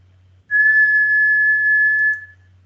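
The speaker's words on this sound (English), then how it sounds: "Whistling, you can see, has a very sharp frequency" A single clear, steady whistle holds one pure high note for about two seconds, then stops.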